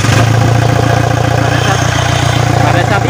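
A Toyota Innova diesel engine runs at a steady idle right after starting, a loud, even low rumble with a slight rhythmic clatter close to the microphone, and no voices over it.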